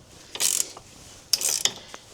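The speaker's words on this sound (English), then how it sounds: "I've just discovered at the other end of this is a ratchet." Ratchet wrench turning on the wishbone bolts of an Audi during a suspension arm replacement, two quick bursts of close, bright ratcheting clicks separated by a pause, with no talk.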